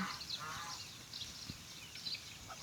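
A mother duck on a Thai farm gives faint, scattered honking calls, a few soft quacks spread across a quiet background.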